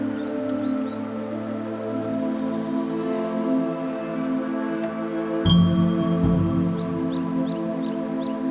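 Heavy rain pours steadily over montane forest above the Urubamba river, a dense, even hiss of drops with a sustained musical tone running beneath it throughout.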